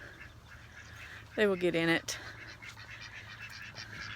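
Ducks quack in a short burst of several loud, harmonic calls in the duck yard, with a person speaking over them and a steady low hum behind.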